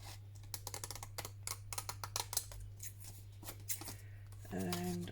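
Scissors trim paper for a postcard in a series of quick, crisp snips and rustles, close and moderately loud, ending with a short hum.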